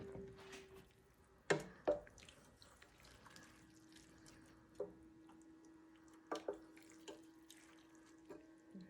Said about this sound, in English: Now we're going to add an additional 3 cups of water.